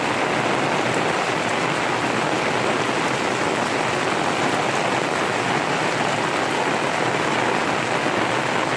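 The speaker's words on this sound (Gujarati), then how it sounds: "ફૂલ વરસાદ ચાલુ થઈ ગયો" Heavy rain pours down in a dense, unbroken hiss, loud and constant throughout with no talking.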